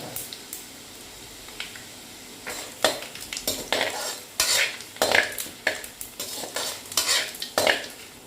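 Chana dal with whole spices, cumin and chopped ginger is stirred in a frying pan, with repeated scraping strokes of a spoon over a steady sizzle, close and fairly loud, with no talk.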